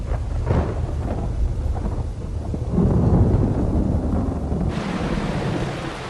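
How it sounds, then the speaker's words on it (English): Heavy rainy-season downpour over the parched African savanna plains, a steady loud roar of rain with low rumbling like distant thunder and wind, unbroken and with no voices. "And showers pour down onto the parched plains."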